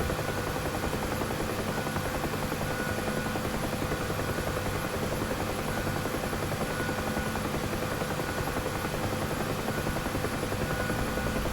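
Gunship helicopter in the DCS flight simulator flying a convoy escort, a steady loud rotor and engine drone that continues unbroken throughout.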